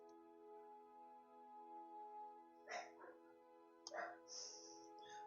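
A puppy barks in bursts from a nearby room, two short clusters of yaps and yips rising over a steady tonal hum, moderately close but muffled.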